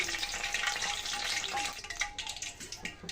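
Green chillies for mirchi bajji deep frying in oil, a dense continuous sizzle and bubbling close up, with a few stirring clinks near the end and no talk.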